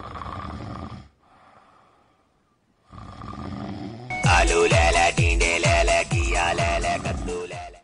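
A person asleep at night snores in a series of loud, rhythmic, rasping breaths that follow a quieter passage with a short silence, in an indoor comedy scene.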